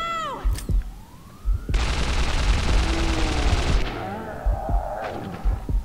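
Sustained automatic gunfire in the video game Singularity, a loud two-second burst with scattered single shots and game effects around it.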